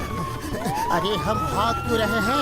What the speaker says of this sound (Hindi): पुलिस का सायरन सुन के पैर अपने आप भाग चले।